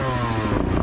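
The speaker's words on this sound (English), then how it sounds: "all of a sudden this guy revs behind them" A motorcycle engine revs briefly and loudly nearby, its pitch climbing in a short burst.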